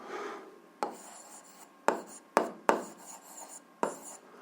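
Pen or marker scratching out notes on paper or a board during a physics lesson, a soft continuous rasp broken by several sharp taps and strokes, close and fairly quiet with no talking.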